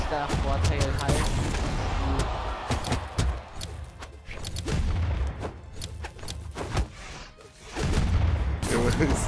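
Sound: explosions in the video game Brawlhalla

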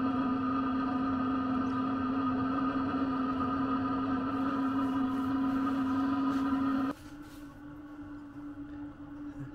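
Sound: Sherp vehicle heater running loudly

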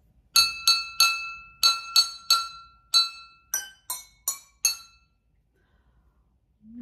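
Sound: Jingle Bells played as a musical performance

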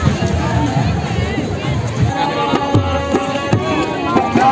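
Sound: crowd at a rose festival

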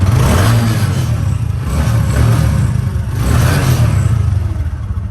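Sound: used motorcycle engine revving

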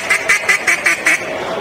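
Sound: handmade duck call imitating a duck

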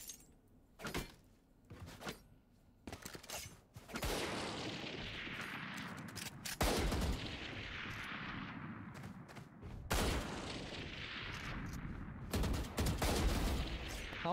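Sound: gunfire from shots in the video game Valorant

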